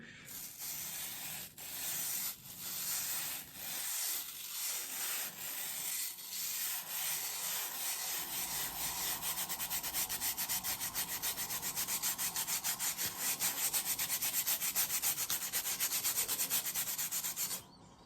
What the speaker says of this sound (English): I'll get some sounds in, like with a brush.